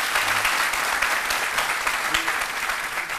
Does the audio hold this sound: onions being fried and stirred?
no